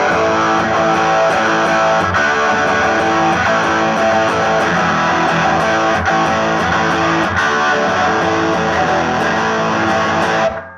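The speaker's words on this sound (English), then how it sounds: "So yeah, there's your sound. That's the distortion sound, right?" Electric guitar played through a ProCo RAT distortion pedal rings out as a loud, thick, sustained distorted chord that holds steadily and then cuts off abruptly at the end.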